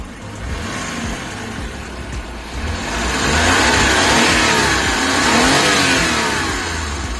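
A DA64V 4x2 automatic vehicle's engine revs up loudly and holds a high roar, rising and falling twice, close by with no voices.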